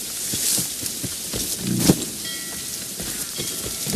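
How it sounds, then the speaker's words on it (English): Steady rain with a brief low rumble of thunder in the video game Assassin's Creed Rogue, a continuous broadband hiss of downpour with a swell near the middle, no talk over it. "The storm's getting worse."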